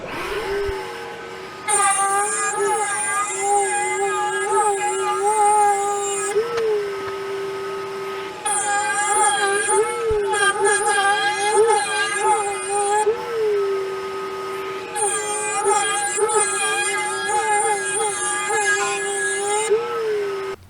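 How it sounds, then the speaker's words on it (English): A router table with a 1/8 inch bit cuts a groove in a wooden table frame, giving a loud, tonal whine that wavers in pitch and comes in long passes separated by short pauses. "I'm going to do that on the router table with a 1/8 inch router bit"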